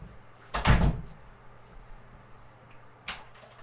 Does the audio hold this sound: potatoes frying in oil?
no